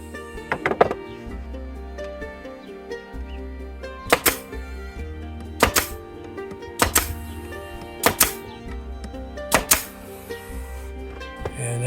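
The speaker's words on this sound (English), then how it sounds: "I'm going to give those a good staple all the way around the perimeter" A staple gun fires into the edges of a pallet wood tabletop, giving about eight sharp, loud snapping shots spaced a second or two apart, with quieter handling between them.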